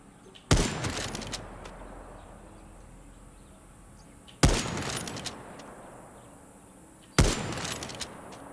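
Sniper rifle fire in the video game Far Cry 6: three sharp, loud single shots spaced several seconds apart, each followed by a rolling echoing tail, over quiet ambient background.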